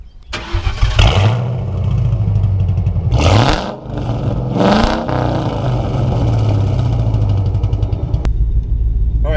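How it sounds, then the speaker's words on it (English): Supercharged 2003 Mustang GT with a Kenne Bell blower cranking and firing up nearby, then settling into a deep, rumbling idle with several sharp throttle blips, carrying on into a steady drive. "let's start it up and go for a drive."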